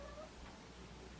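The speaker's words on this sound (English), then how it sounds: "So my cat is just going berserk outside my door." A cat going berserk on the other side of a door gives a short, faint, muffled meow, heard alone against quiet room background.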